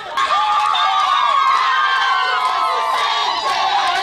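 A crowd of supporters cheers loudly at a polling station ahead of a tense vote, with close, continuous shouting and whooping and no pauses.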